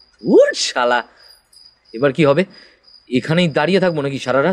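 Crickets chirp in a continuous, faint, high trill at night in a rural village, running beneath a man's nearby speech.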